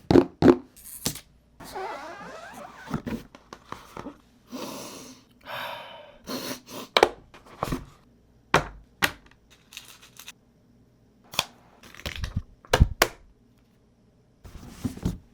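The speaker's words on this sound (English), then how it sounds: "a satisfying ASMR unboxing for your ears" Unboxing of a Razer BlackShark V3 Pro gaming headset, heard as crisp close-up rustles, taps, clicks and packaging scrapes in irregular bursts with quiet gaps between them, and no talking.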